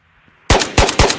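AK rifle fired in the video game Ghosts of Tabor: three sharp, loud shots in quick succession, each cracking in and trailing off briefly, with near silence before the first.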